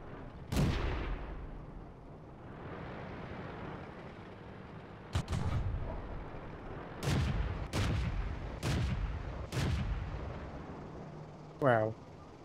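Tank cannon fire in the video game World of Tanks: several heavy, booming shots spaced out, some near and loud with rumbling tails, over a steady engine drone, with a brief voice near the end.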